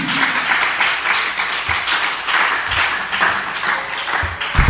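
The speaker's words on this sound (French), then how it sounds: "Nous acclamons encore pour Jésus." A church seminar congregation applauds loudly and steadily, a dense wash of many hands clapping together for several seconds with a few low thumps mixed in.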